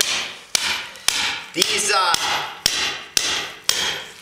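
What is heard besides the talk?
hammer knocking a slab off frozen deer meat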